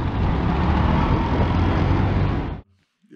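An auto rickshaw speeds through busy traffic in India, its loud, rough engine and road noise roaring close and continuous before cutting off sharply near the end.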